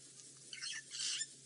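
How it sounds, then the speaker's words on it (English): A Burchell's starling gives harsh, squawky calls from somewhere overhead in the African bush at Londolozi. The calls are faint and come in short bursts over a quiet background. "Noisy Birchall starling above me somewhere."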